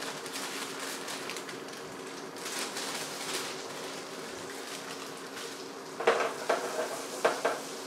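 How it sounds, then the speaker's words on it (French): Butter foams and sizzles in a pan while cooking gnocchi, a low continuous crackle with some stirring, and a few louder clinks of a pan and utensil near the end. "je fais mousser un peu mon beurre"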